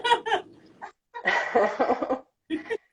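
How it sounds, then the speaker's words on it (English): A dog joins in during an indoor yoga session, giving several short, sharp vocal bursts: a few quick barks, a longer rough sound in the middle, and a final pair of brief barks, fairly close. "I think my dog wants to join in."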